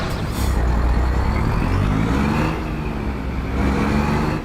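A truck drives in American Truck Simulator, a loud, close engine drone with shifting gear pitch and revving, a brief hiss of air near the start, continuous throughout.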